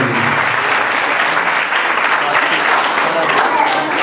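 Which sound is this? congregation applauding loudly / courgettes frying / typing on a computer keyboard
congregation applauding loudly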